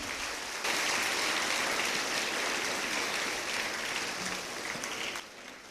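An audience at a motivational speech breaks into loud, dense applause that starts abruptly, holds steady for several seconds, and drops away just before the end.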